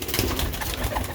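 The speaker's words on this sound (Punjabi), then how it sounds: "ਦੇਖੋ ਇਹ ਜੇ ਸਿਆਲਕੋਟੀ ਕਬੂਤਰ" Sialkoti pigeons coo in low, rounded murmurs that run on steadily at close range, backed by a dense, noisy wash of sound.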